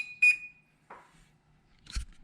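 A short electronic oven timer beep rings out while setting bake at 380 for 2 hours, followed by faint clicks and a soft thump, all in a quiet room.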